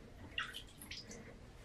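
Water splashes and drips over a dog during a bath, a soft wet patter with a brief louder splash near the start, continuing faintly throughout.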